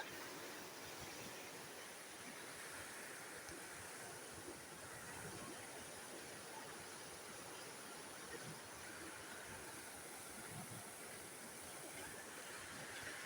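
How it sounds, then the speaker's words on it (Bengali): Floodwater of the swollen Damodar river rushing near a railway bridge, a constant broad roar like a torrent that carries on evenly and loudly throughout, with no break. "এই দেখো জল একদম হুলুলুলু হুলুলু করছে"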